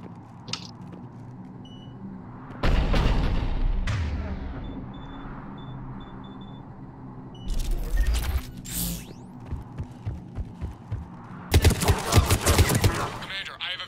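In a Mass Effect-style sci-fi battle, heavy cannon fire booms from an operational Cerberus cannon in loud, separate bursts, each followed by rumbling decay, mixed with creaks and mechanical clatter between shots.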